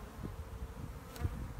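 Honey bees buzz steadily during a hive inspection, a dense, continuous droning hum from a colony close by, with no speech.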